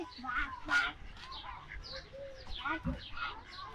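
Ducks at İzmir Wildlife Park quack and squawk in short calls close by, mixed with other bird chatter, some voices talking softly in between.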